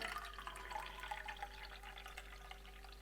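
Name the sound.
pouring filtered water from a water filter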